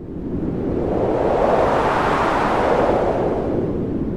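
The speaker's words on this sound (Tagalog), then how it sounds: "Biglang umihip ang malakas na hangin." A strong, steady rush of wind blows loudly for several seconds, swelling slightly in the middle, with no other sounds.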